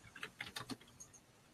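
Soft clicks of fingers typing on a computer keyboard, a quick irregular burst of keystrokes that trails off, faint and close with no voices.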